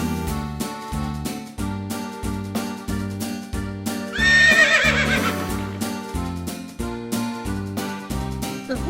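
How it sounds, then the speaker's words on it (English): A horse gives one loud, shrill whinny lasting about a second over steady, rhythmic background music in a children's animal-sounds song. "The horse says neigh, neigh, neigh, neigh, neigh, neigh."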